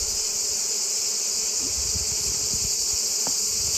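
A steady, dense honeybee buzz hums throughout, loud and continuous, from a collapsing hive, with faint low thumps underneath.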